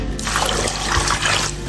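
Running water rushes steadily over chopped pork ribs as they are rinsed, a close continuous splashing that swells briefly, with no one speaking.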